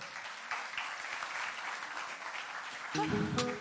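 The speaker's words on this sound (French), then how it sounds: "qu'on va accueillir en l'applaudissant" An audience at the Sportif de l'année 2020-2021 awards ceremony applauds to welcome a singer onto the stage, a steady wash of clapping with cheers, growing louder near the end as music begins.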